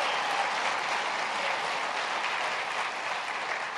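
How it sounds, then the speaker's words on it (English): A large audience claps for Chionque Mines at an event where she introduces the President of the United States, a dense, even roar of applause that holds steady throughout with no voices over it. "can everybody please give Chionque a big round of applause for"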